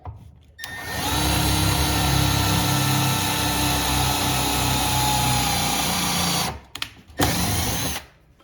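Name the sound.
drill with 1/8 drill bit installing kitchen cabinets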